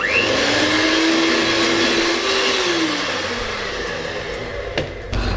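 An electric mixer whips cream for an eggless red velvet cake, a loud steady motor whir that holds for a few seconds, dips in pitch as it slows, then cuts off.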